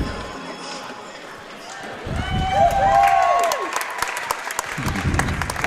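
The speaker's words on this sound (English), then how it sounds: "Getting a nice round of applause from all the fans here at Merckett Gymnasium." Fans of a Stonehill women's basketball game applaud together inside Merckett Gymnasium, a broad wash of clapping that swells midway and holds steady, with squeaks and bounces echoing through the hall.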